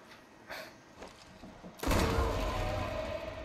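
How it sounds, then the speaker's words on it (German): A loud explosion in the Sniper Elite 4 video game bursts in suddenly after a few quieter thumps, then lingers as a broad, rumbling roar. "was hat denn da so explodiert?"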